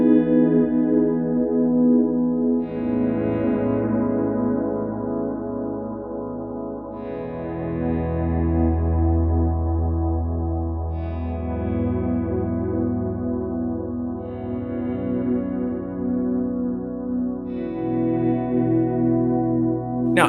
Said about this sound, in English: repeats on both of these and do some swells.